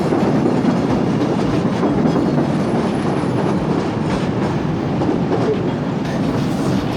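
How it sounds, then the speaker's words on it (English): A loud, continuous rumble of a train passing in downtown Chicago in bitter cold, with rhythmic wheel clatter on the rails, steady and close throughout. "Hopefully I'm getting that train right now."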